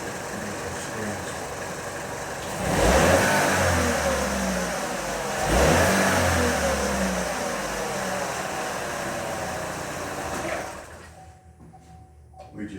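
A car engine idles steadily, then twice surges in quick throttle snaps that rise and fall back to idle, fairly close and loud, before cutting to near quiet at the end; voices talk faintly at times.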